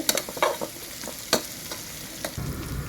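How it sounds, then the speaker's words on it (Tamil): Masala sautéing in a pan for chicken biryani, close sizzle broken by several quick spatula scrapes and stirring strokes, a rumble near the end, no talking. "வதக்கிட்டு இருக்கோம்"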